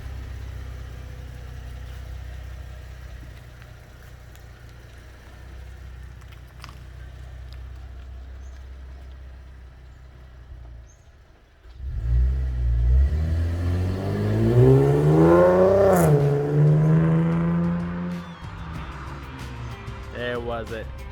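A car fitted with an X-force straight pipe exhaust idles with a low rumble, then revs up loudly partway through, rising and falling through several throttle blips and holding a strong raspy roar to the end.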